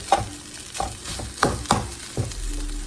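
Food frying in a pan, a steady sizzle broken by several scraping, stirring strokes at a loose rhythm.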